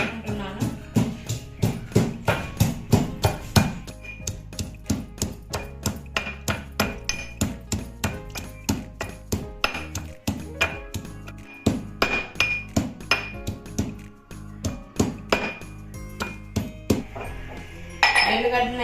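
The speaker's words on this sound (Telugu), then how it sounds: "ఎల్లిగడ్డను అయితే దంచుడు అయితే అయ్యింది." Fresh garlic cloves pounded into a paste in a mortar for a flattened-rice tempering, a long run of sharp, ringing strikes in a quick, uneven rhythm, close and loud, with brief pauses between bursts.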